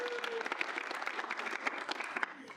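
A student senate audience claps steadily in a room, a fairly quiet, dense patter of many hands with some sharper individual claps standing out.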